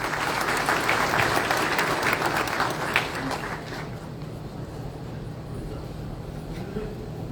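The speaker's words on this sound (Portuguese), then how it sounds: "Mais uma vez, uma salva de palmas." Enthusiastic applause from a medical congress audience fills the room, loud at first and then thinning out to scattered clapping.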